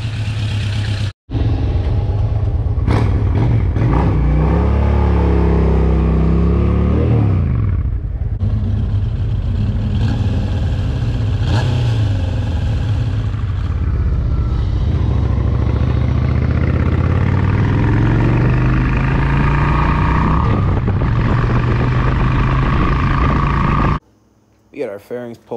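A small motorcycle engine runs continuously as it is ridden, its pitch rising and falling through revs and gear changes, loud and close for most of the stretch before cutting off near the end, with talk heard over it.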